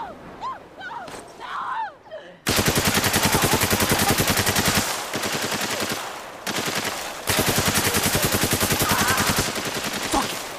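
Rapid automatic gunfire in the video game Spec Ops: The Line, loud sustained bursts of machine-gun fire after a quiet stretch with a few faint voices, broken by a brief pause before firing resumes.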